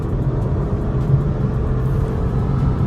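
A Skoda Octavia in a drag race on an open road gives a steady, fairly loud engine drone and low rumble that hold evenly throughout, heard from a moving vantage point.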